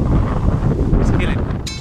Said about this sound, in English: The wind is sucking the life out of me. This wind is killing me.